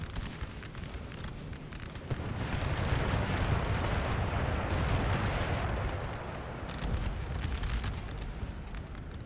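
Massed musket volleys in the Napoleon Total War battle game: a dense, continuous roar of crackling gunfire and booms swelling louder in the middle, with no voices.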